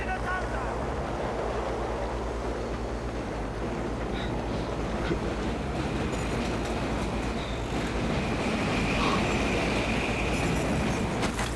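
Train rumbling past in the shooter game Battlefield 3: a continuous, loud, rolling rumble with a rushing, wash-like hiss and faint metallic clanks, steady throughout with no voices over it.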